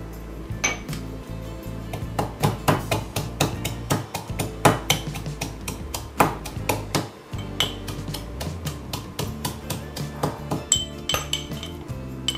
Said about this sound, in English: Next, I'm going to chop the garlic.